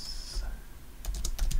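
Computer keyboard typing during RStudio coding, a short burst of several quick key clicks near the end after a quieter stretch, with a faint background tone and no voices.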